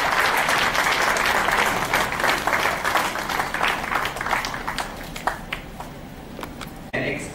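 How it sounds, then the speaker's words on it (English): An audience at a hospital's aortic aneurysm centre launch event claps in sustained, dense applause that fills the room loudly, then thins and fades toward the end. "round of applause"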